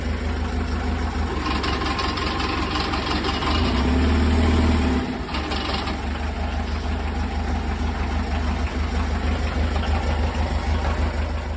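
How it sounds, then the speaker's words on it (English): A narrowboat engine chugs steadily at idle with a low, throbbing rumble, briefly revving louder for a moment before settling back; no talking. "So, as I say, the engine's running, we're good, we're going."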